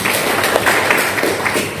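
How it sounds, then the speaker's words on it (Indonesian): A church congregation applauding, a loud continuous wash of many hands clapping throughout a worship service. "Tepuk tangan bagi Tuhan Yesus."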